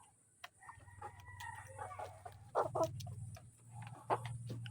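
White leghorn chickens cluck and squawk near a feeder in a farmyard, with a low steady hum underneath and faint rooster-like calls among the short bursts.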